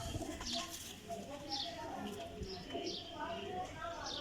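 A black-faced female flying pigeon of the Teddy golden type coos softly in a loft. The low, repeated throaty coos sit under a voice talking throughout, with faint chirps in the background.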